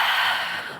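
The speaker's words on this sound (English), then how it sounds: "deep breath in. Exhale, let it out" A single slow, airy exhale during a lung health exercise session, close and breathy, fading out over under a second.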